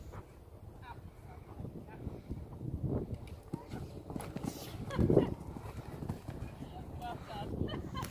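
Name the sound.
horse cantering during jumping exercises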